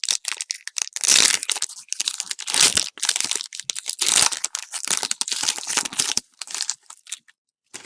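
A Pokemon Hidden Fates foil card pack is torn open, with loud, close crinkling and crackling of the wrapper in uneven bursts, then a short silence at the end.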